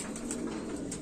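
Pigeons coo steadily at close range, a soft continuous murmuring from a group of birds kept for sale, with no talk over them.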